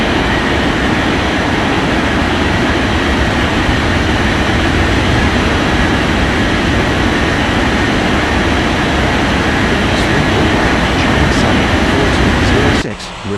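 A jet airliner's engines roar steadily and loudly at full takeoff power in an air traffic control game, a sustained heavy rumble that cuts off abruptly near the end.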